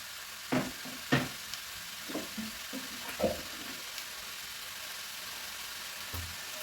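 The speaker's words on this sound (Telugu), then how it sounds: "ఇదంతా మంచిగా కలిపేసుకుందాము" Cabbage and coconut curry with green chilli and chana dal stirred in a pan, a few scraping clinks of the spoon over a soft sizzle, with no voice.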